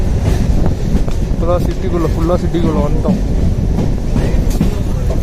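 A passenger train runs from Hosur to Yeshwanthpur into Bangalore city, its steady rumble and rattling wheels filling the background while someone talks over it and a brief squeal rises.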